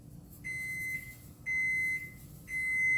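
A kitchen oven beeping once it finishes preheating for a sprinkle-topped cake: three clear electronic beeps, each a sustained tone with a brief break, evenly spaced about a second apart over low background hum.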